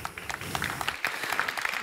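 An audience applauding at a French presentation for Little Market creators, a brief burst of dense clapping from a crowd, fairly loud and close.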